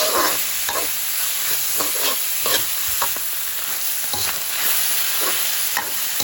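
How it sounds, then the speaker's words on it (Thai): Tomatoes stir-fry in a hot pan for a noodle soup with minced pork, giving a loud, continuous sizzle broken by repeated scraping strokes of a spatula at a steady rhythm. "เราจะผัดให้มะเขือเทศสุกนะครับ"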